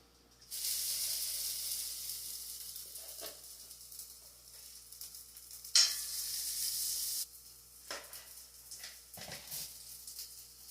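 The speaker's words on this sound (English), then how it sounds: "these little pieces of corn that come out while it's cooking have a tendency to pop." Corn fritters sizzle loudly and steadily in hot oil, broken by a few sharp pops and crackles from bits of corn, heard up close with no talking.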